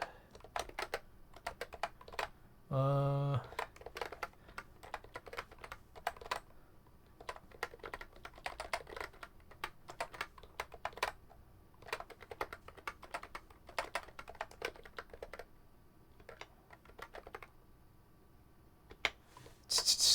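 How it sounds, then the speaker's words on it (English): Clacking keystrokes on a mechanical keyboard fitted with Hades switches, irregular clusters of close, crisp typing with short pauses between bursts and a brief louder rattle early on. "let me type in which build"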